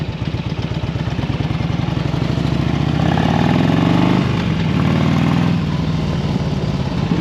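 Harley-Davidson motorcycle engine while riding, a steady loud low rumble with a rhythmic throb that rises in pitch as the bike accelerates, then drops back and settles into cruising, wind noise mixed in.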